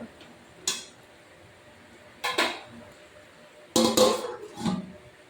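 Metal lid set onto a cooking pot, a few sharp clanks and clinks spaced apart in a quiet kitchen, close and alone.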